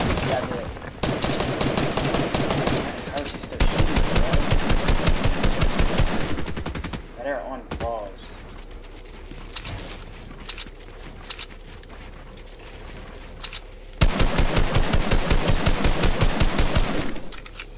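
Long sprays of rapid automatic gunfire in Fortnite rattle loudly in dense bursts, break off for a stretch of quieter game sounds and voices, then resume in another sustained spray.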